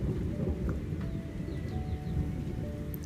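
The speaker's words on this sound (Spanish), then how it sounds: "aquí contemplo hermosamente la lluvia en las montañas, en el jardín, en la gruta de la Virgen." Rain falls in the mountains over a garden and grotto, a dense, steady low rumble of downpour with occasional distant bird chirps, heard without any talking.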